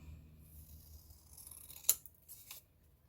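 Scissors snip through paper or card box insert pieces being trimmed to size, two short crisp cuts close by against a quiet background.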